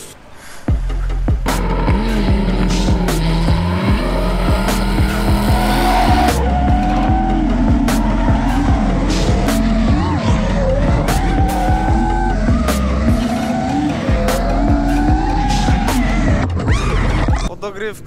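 A drift car at a competition screams through a long slide, engine roaring hard and tires squealing and skidding continuously for most of the run, loud and close with the pitch rising and falling as the throttle works.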